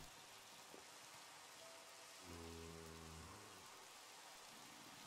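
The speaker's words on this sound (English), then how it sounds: "And now it's raining." Steady Minecraft rain falling, a soft even hiss throughout, with a brief low tonal game sound in the middle; no talking.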